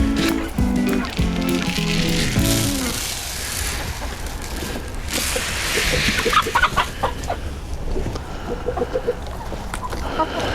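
Chickens cluck and chatter close by in a steady stream, with a voice speaking briefly at the start and scattered scratching and movement sounds throughout.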